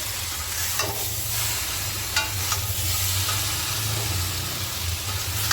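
Vegetarian green jackfruit curry with jaggery, ripe tomato and spices being stir-fried in a pan: a continuous moderate sizzle and hiss, broken by a few brief scraping stirs.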